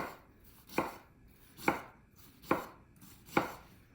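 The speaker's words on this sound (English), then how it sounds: "Then we're gonna chop our cabbage, and we want it in long threads." Half a cabbage is sliced into long threads with a knife, four evenly spaced sharp chops on a cutting board, close and clear with quiet gaps between strokes.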